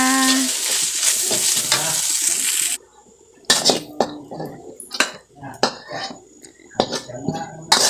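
Glass noodles with meatballs being stir-fried: steady loud sizzling for a few seconds, then a run of scraping and clinking utensil strokes against the pan, with someone speaking over part of it.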